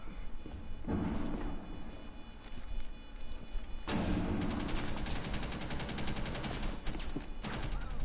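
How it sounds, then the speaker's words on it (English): Rapid bursts of automatic gunfire in Rainbow Six Siege, two sustained volleys of loud close shots with a brief gap between them and another short burst at the end. "did my partner just shoot at me"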